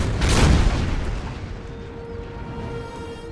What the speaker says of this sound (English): let's see if we can let the artillery do their magic and actually hit anything